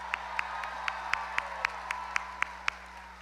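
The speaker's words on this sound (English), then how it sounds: "Let's give Stevie Wonder a round of applause." At a Michelle Obama rally in Jacksonville, Florida, audience applause for Stevie Wonder comes through as evenly spaced, crisp claps over a steady electrical hum, fairly faint and without talking.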